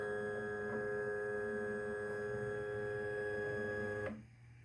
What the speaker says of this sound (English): Now let's see what kind of printing quality we can expect with this